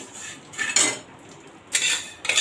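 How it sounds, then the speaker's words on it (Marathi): Roasted rice being scraped from a kadhai into a large plate, a few metallic scrapes and clinks in short bursts, close and fairly quiet. "आपण हे तांदूळ आता परातीमध्ये काढत आहोत।"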